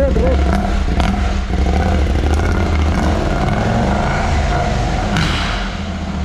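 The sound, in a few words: KTM 790 parallel-twin motorcycle engine revving after cat delete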